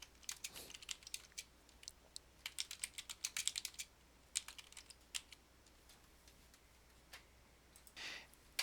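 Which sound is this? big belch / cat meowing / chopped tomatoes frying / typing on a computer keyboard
typing on a computer keyboard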